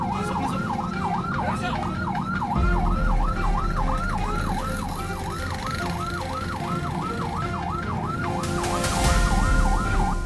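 An ambulance siren wails in a fast, repeating up-and-down pattern, loud and continuous, with road traffic rumbling underneath.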